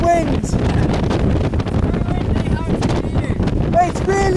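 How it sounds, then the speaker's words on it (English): Strong wind buffets the microphone with a rough, continuous roar, with brief voices calling out over it. "It's really windy!"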